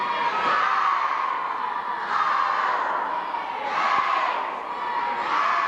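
A crowd at a 1988 high school boys basketball game, Cranston East at Johnston, cheers loudly and continuously as cheerleaders lead it behind the Johnston bench, the chanting swelling in rhythmic waves of massed shouting.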